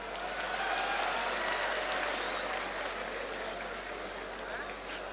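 Audience applause at a political speech, a steady wash of clapping that holds at an even level throughout, with a low constant hum beneath it.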